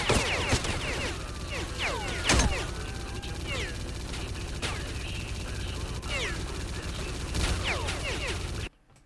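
Gunfire erupts in the shooter S.T.A.L.K.E.R.: Clear Sky, scattered sharp shots and bursts cracking over a noisy firefight, with faint voices mixed in before it cuts out abruptly.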